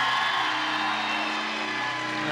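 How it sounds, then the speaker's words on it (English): Girls high school basketball crowd at a Parkersburg South rivalry game, a dense, steady roar of cheering and whooping voices filling the gym before tip-off, loud and continuous throughout. "South crowd wild up there"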